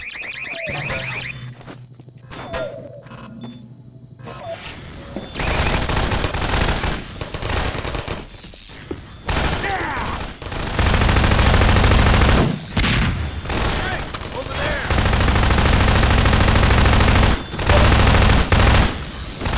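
Turret gunfire in the Half-Life 2 Episode 2 video game, arriving after a quieter opening as loud, sustained bursts of automatic fire with brief gaps, dense and close, mixed with other game noise.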